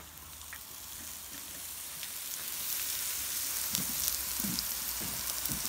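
Thai mookata pork sizzling on a tabletop grill in Sweden, a steady bright hiss and crackle of frying meat, close and constant, with a few soft thuds from handling near the end.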